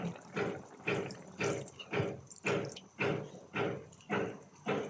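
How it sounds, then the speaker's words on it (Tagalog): Vinegar poured into simmering pork adobo in a pan, a steady liquid splash and sizzle pulsing in regular bursts, close and fairly loud, with no talking. "Lagyan na natin ng suka."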